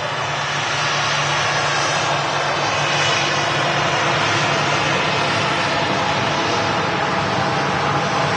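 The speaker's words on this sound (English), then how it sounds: "There's this Ryanair taxis in front of us." A Ryanair airliner taxis at Manchester Airport, its jet engines giving off a continuous, loud, even roar with a low steady hum beneath, unbroken throughout.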